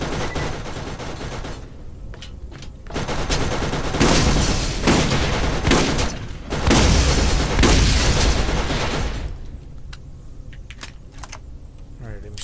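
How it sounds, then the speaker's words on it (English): Rapid automatic fire from a turret in the video game Borderlands, dense bursts of loud shots running in two long stretches with short pauses, set against game ambience and scattered sharp clicks. "Yeah, that's definitely a turret."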